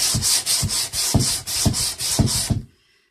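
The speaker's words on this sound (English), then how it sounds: "I'm just going to light sand over the top" A wooden cabinet door is lightly hand-sanded in about six even back-and-forth strokes, close and clear, stopping abruptly before the end.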